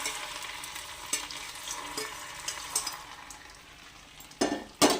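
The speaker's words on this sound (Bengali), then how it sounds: "এগুলো সব আমার ভাজা হয়ে গেল এবার এগুলোকে আমি এই খিচুড়ির মধ্যে ঢেলে দিচ্ছি" Fried cashews and other fried ingredients tipped into a pan of bhoger khichuri, giving a steady low sizzle and stirring scrape, then two sharp louder clatters of pouring near the end.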